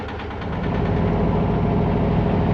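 A diesel engine on the cruising boat Lealea, running at a steady idle before the anchor is raised: a continuous low, throbbing drone close by that firms up slightly after the first half-second and holds evenly with no voices.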